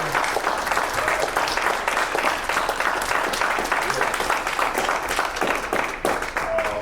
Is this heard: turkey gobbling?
no